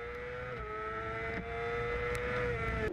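A sidecar racing outfit on track at the Nogaro circuit in France, giving a sustained, steady engine drone that holds a high pitch for a few seconds, heard from a moderate distance with no talking.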